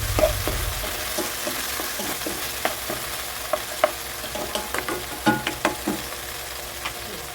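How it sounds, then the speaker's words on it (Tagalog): Aromatics sizzle with fish sauce in a pan for an Ilocano buridibud dish, a steady fry under a scatter of sharp clicks and scrapes from stirring, with no talking. "Gusto ko kasi yung patis parang ginigisa siya para mas malasa."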